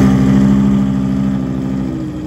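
A BMW M5 V10 engine swapped into an E30 idles close by, a loud, steady, deep burble that eases slightly in volume, with no talking.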